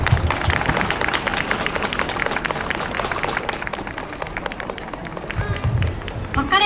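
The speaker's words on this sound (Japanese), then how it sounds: "皆様もう一度大きな拍手をお願いします。" A crowd at the Nakagawa fair applauds the Pokka Lemon fire brigade band and the Lily Angels after their performance, with many hands clapping densely and fairly close, swelling briefly toward the end.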